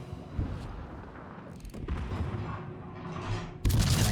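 Enemy guns fire in a combat video game, with rumbling booms and crackling bursts rising and falling, capped by a loud blast at the end.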